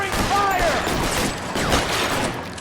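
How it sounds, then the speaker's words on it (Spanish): Gunfire in the crime video game L.A. Noire, including shotgun blasts, in a dense, loud barrage of overlapping shots throughout, with a brief voice in the mix. "Acaban de pegar un tiro a mi compañero."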